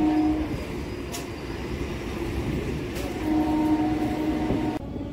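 A local MEMU passenger train on the Lalgola–Sealdah line near Jagaddal runs along the rails with a steady, loud rumble, a sustained tonal hum and brief higher clatters, continuous throughout with no talk.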